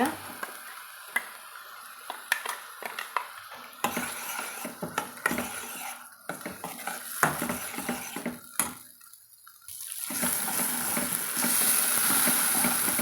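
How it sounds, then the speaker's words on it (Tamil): Ground masala paste sautéed in oil for mushroom gravy, with close sizzling and repeated clinks and scrapes of a spoon against the pan, the frying growing louder and steadier toward the end. "நம்ம இந்த அரைச்சி வச்சுக்கிற மசாலாவையும் கூட சேர்த்து வதக்கலாங்க"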